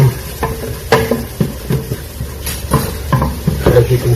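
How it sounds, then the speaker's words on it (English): Onions brown in a hot pan while someone makes keto chili. A steady sizzle runs under repeated scraping and stirring clatter, with a voice talking over it. "I like the onions to get a little bit brown."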